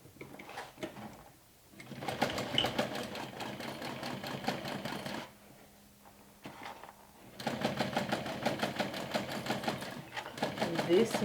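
A sewing machine stitches a vinyl backpack in two long rapid runs separated by a quiet pause, the needle's fast mechanical chatter close and steady, with a voice talking at moments.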